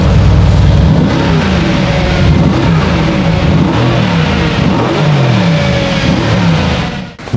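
Loud sports car engine revving in a run of rising and falling bursts, close and continuous with no talk, cutting out near the end.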